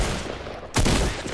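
A single sharp gunshot in a shooting video game, a loud close burst about midway through a short stretch of steady game background noise.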